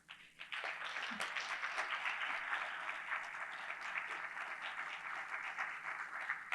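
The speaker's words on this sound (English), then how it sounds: "I want to actually really do this round of applause for you" A crowd at a transportation research day poster awards ceremony applauds an award winner, steady dense clapping that swells after a brief start and holds evenly throughout.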